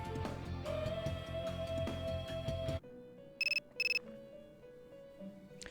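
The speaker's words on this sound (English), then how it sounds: "Your cell phone is ringing." In Persona 3 Portable, a cell phone rings twice in short, bright electronic trills. It comes in after the game's background music cuts off, and a softer melodic tune plays quietly beneath it.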